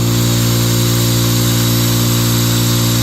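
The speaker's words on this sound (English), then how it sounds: "Let's turn the small air compressor on first." Small air compressor running on an Enernova ETA Ultra power station, a loud, steady droning hum with a constant motor buzz, close up and unbroken throughout.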